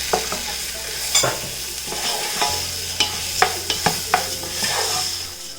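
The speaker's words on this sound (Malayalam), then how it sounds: "നമ്മൾ ഈ കട്ട് ചെയ്ത് വെച്ചിരിക്കുന്ന ഏത്തപ്പഴം ഇതിലേക്ക് ഇട്ടിട്ട് നന്നായിട്ടൊന്ന് ഇളക്കി കൊടുക്കണം" Cut ripe plantain (ethapazham) being stirred in a hot pan as it fries: a steady sizzle underneath with repeated scraping clacks of the spoon against the pan, close and fairly loud, no voices.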